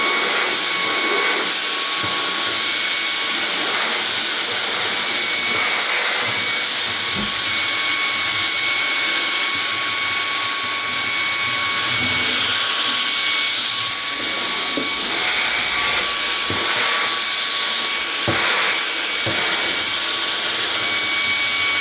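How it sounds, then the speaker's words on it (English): Shark WandVac 2.0 handheld vacuum running without any attachments, a loud, steady high-pitched whine with airy motor rush that holds throughout, with faint handling bumps and no talking. "Hopefully that gave you some insight as to how loud the Shark WandVac is"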